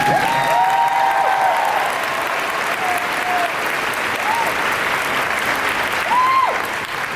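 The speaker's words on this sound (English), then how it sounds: "One last round of applause, one more time." Audience applause at a graduation ceremony, a dense, steady wash of clapping across a large crowd, loud and sustained throughout, with a few faint whistle-like cheers rising above it.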